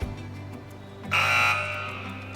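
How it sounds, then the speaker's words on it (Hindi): A single loud electronic quiz show buzzer blares for about half a second over a low steady hum, then cuts off. "इस बार चारों कंटेस्टेंट्स ने बज़ किया है"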